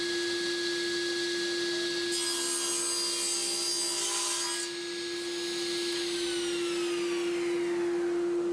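A hand saw cuts through wood while someone makes parts for a wooden beer mug, giving a close, continuous rasping over a steady background hum, with no speech.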